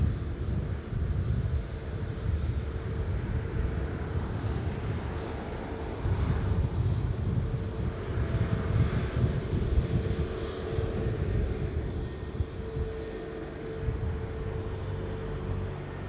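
An Airbus A330neo airliner departing Ponta Delgada Airport, its engines a low, steady rumble at a distance with wind buffeting the microphone and no voices.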